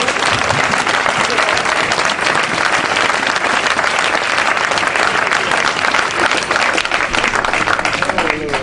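A church congregation applauds to acclaim the Lord, with dense, loud, steady clapping filling the whole stretch without a break.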